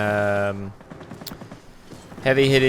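A Me 210 in the World of Warplanes game fires its two 20mm cannons and two .30 caliber machine guns in a rapid, crackling burst of about a second and a half. Someone talks just before and after.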